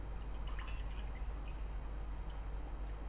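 Water poured from a measuring bowl into a pot for cooking rice, a steady faint trickle and drip running through the short stretch with no voices.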